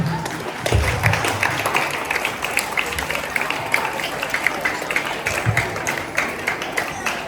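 An audience applauds newly elected school prefects at a school ceremony, steady clapping from a crowd running throughout with a voice speaking over it.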